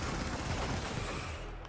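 Shotgun fire in the co-op shooter Helldivers, a dense, loud continuous burst of rapid overlapping blasts filling the whole stretch with no pause, fading slightly at the end.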